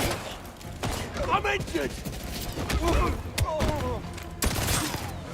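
Bursts of gunfire in the 007 First Light video game, sharp repeated shots scattered through several seconds, mixed with shouting voices and game chatter.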